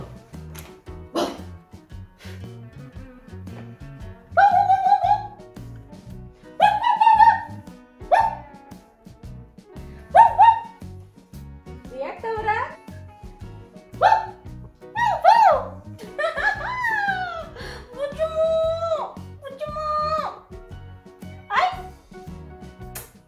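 A woman playing a prank imitates a dog with a string of loud, yipping barks in short bursts. A low room hum continues underneath.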